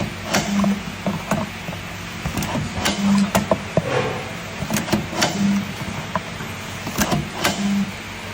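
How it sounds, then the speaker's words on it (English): A corner pasting machine shapes and secures a rigid box, running as a steady mechanical drone with a low repeating hum pulse and sharp clicks and clacks at intervals, close and moderately loud, with no talk. "The corner pasting machine accurately shapes and secures the rigid box."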